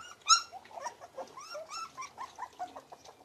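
Several small rescued puppies, abandoned in a trash can and exhausted from heat, whimper and squeak in a steady run of high, thin cries, close and moderately loud with no talking.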